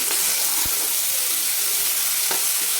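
Garlic and green chilli thecha hitting a hot pan, a loud dense sizzle and hiss with a couple of brief knocks.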